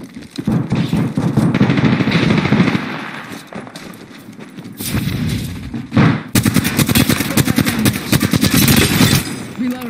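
Automatic weapon fire in the video game Apex Legends rattles in fast sustained bursts, loud and close, with a pause midway before another long volley, over faint background voices.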